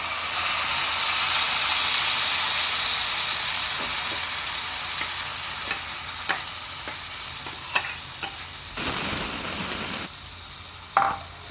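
Ground masala paste for paneer butter masala sizzles and fries in a hot pan, a loud hissing that slowly fades, broken by scattered clinks and scrapes of a spoon stirring and a sharp burst of sizzle near the end.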